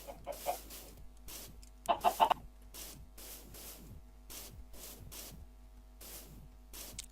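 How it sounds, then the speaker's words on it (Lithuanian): Minecraft chickens cluck in short repeated bursts, with one louder cluster of clucks midway and fainter clucks spaced evenly around it, heard alone without speech. "Vėl vištos."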